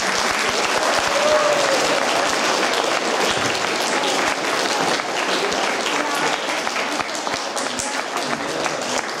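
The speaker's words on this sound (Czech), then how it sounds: "vy mu poděkujete potleskem" Applause fills a hall at an open day of a Prague school for visually impaired pupils, many hands clapping continuously and fairly loud, with a brief voice or whistle near the start before the clapping thins slightly toward the end.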